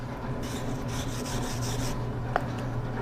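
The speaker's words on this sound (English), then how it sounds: "I'm going to come in and brush this." A wire brush scrubbing a hot forged steel fire poker, a continuous gritty rasping scrape in steady strokes, close and moderately loud, with one brief metallic tick near the end.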